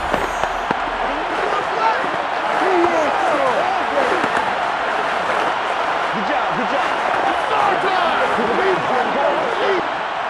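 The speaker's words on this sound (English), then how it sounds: "Here comes a big one as this crowd gets up making some noise." A stadium crowd roars in Madden NFL 22 during a Dallas Cowboys versus Los Angeles Chargers game, a dense, steady wash of cheering and noise holding at high level the whole time.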